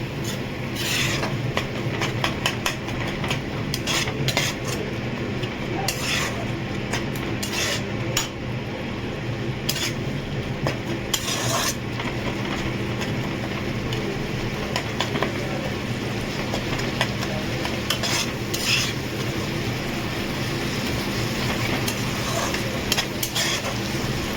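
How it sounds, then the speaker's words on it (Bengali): A spoon stirs and scrapes through a pan as spices are sautéed with sugar and a little water for a Bengali katla fish curry. The scraping rubs and clinks continuously over a steady background hum, with no one talking. "দিয়ে একটু কষিয়ে নেবো ভালো করে।"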